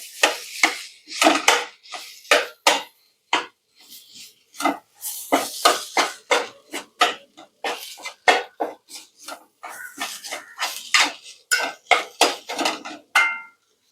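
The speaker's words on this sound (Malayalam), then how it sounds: "നേരത്തെ ഉടച്ചു വെച്ചിരുന്ന ഉരുളക്കിഴങ്ങാണ് അതും കൂടി ഇട്ട് കൊടുത്ത് ഒന്ന് മിക്സ് ചെയ്യാം" Previously mashed potato being stirred into a pan for a potato filling, with a spoon scraping and clinking against the pan in quick, uneven close strokes and no talking.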